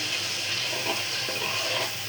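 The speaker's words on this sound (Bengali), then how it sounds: "সুন্দর মতো কষাবো।" Salt, turmeric, chilli powder and cumin paste fry in a pan for a rui fish curry, giving a soft, continuous sizzle and hiss with faint stirring scrapes, ending in a brief louder clatter.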